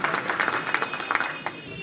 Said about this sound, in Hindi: सर के लिए तालियां सत्य प्रकाश जी की